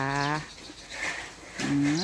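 Cattle on a small farm give two long, loud moos close by, one at the start and another near the end, with quiet outdoor air between them.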